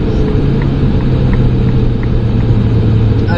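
A Ferrari 296 GTB on the Trappes circuit holds a loud, steady engine rumble close up, accelerating with a continuous low drone and no break.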